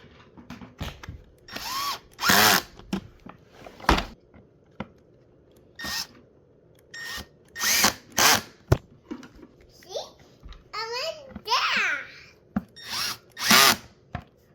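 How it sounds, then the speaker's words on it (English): Power drill set to torque setting 4 driving screws back into a Bissell Powerforce Helix vacuum during belt replacement, heard as several short whirring bursts separated by pauses, with a child's babble nearby. "Make sure you take your drill, if you're using a drill, set to number 4"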